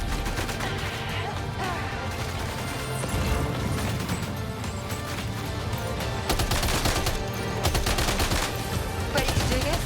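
Gunfire from the video game Death Stranding 2 crackles in dense, rapid volleys of sharp shots that rise and fall over about ten seconds, loud and continuous.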